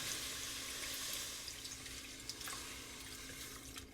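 Liquid trickles slowly and steadily into a soup pot in a soft, continuous stream with faint small splashes, quiet and close, with no talking.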